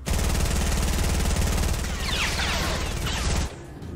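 Rapid cartoon gunfire from Pico, the gun-toting character in a Friday Night Funkin' animation, rattling loud and continuous for about three and a half seconds before cutting off abruptly.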